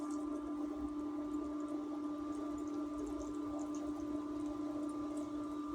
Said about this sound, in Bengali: তরকারি বলক উঠে গেছে, তো আমি এবার ভালো করে নেড়ে দিলাম।